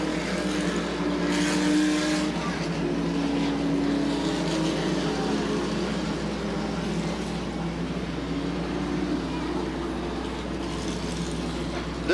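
Late model race cars roar steadily around Sandusky Speedway in 1985, a dense continuous engine drone from the pack with rising and falling passes, heard from trackside at a distance.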